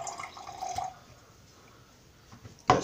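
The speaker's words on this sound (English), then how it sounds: "All right, put a little bit of water in." Water trickles into a cup in a short pour and drip, faint and close, with a louder splash or clunk at the end.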